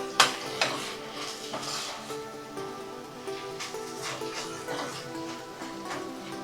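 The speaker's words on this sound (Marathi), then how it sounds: "यावर आपण आता ओलं खोबरं घालून घेणार आहोत. आणि हे मिक्स करून घेऊया." Maayalu (Malabar spinach) vegetable curry with fresh grated coconut is stirred in a pan with a spoon, giving soft scraping strokes and light knocks over a faint sizzle at moderate, close level.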